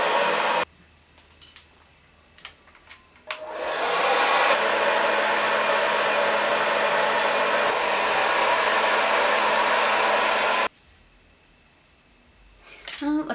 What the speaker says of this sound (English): I'm gonna turn the heat setting back to low because as your blow dryer works, it's just gonna get hotter and hotter